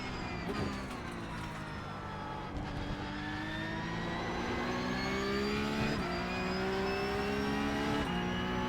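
Porsche 911 Cup (992.2) race car engine heard from the cockpit on the last lap at Monza in the iRacing sim, a steady droning growl whose pitch climbs and drops with gear shifts, continuous and fairly loud.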